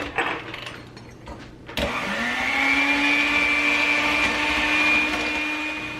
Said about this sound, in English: So it's a vintage mixer as well.